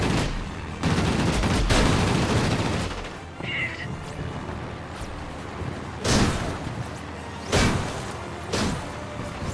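Anti-aircraft guns fire in World of Warplanes 1.5, loud rattling bursts and booming blasts that start, stop, pause, then return in short sharp volleys over a constant engine drone.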